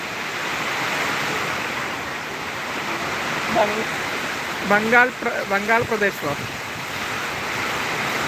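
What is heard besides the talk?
wind and rain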